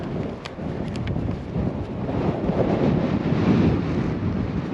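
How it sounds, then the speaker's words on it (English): Strong wind at an exposed mountain camping spot, roaring and buffeting the microphone in a constant low rumble that swells slightly, with no voices. "The real problem is the wind. It's a strong wind."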